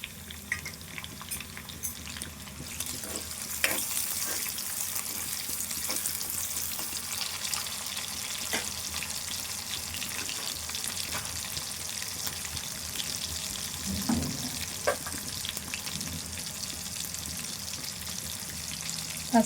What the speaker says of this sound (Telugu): ఈ వెల్లుల్లి ఇట్లా వేగంగానే ఉల్లిపాయ వేసుకోవాలి